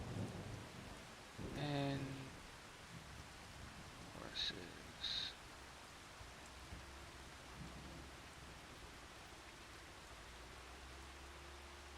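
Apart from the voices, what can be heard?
rain and thunder in Farming Simulator 25 video game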